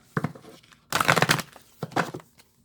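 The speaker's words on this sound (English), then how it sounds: "I'm going to shuffle these two." A deck of tarot cards being shuffled by hand in close, papery bursts: a short riffle, then a longer dense flurry of card noise, then another brief burst, with quiet gaps between them.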